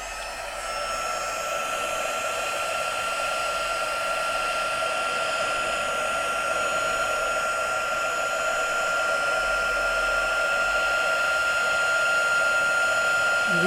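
A steady, loud hot-air blower roars continuously, like a heat gun running close by with an even whine and no pauses, used for heat embossing.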